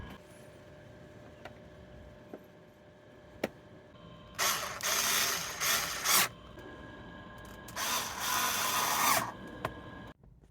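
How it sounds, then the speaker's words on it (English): A power screwdriver drives screws back into the switch bezel of a 1992-2000 Mitsubishi Montero, two bursts of whirring each about two seconds long, with small clicks before them in a quiet setting. "putting back all these screws to secure this bezel"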